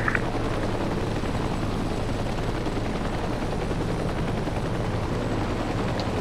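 Helicopter in the video game Heliborne: a steady, loud rotor and turbine roar holding level throughout, with no talking.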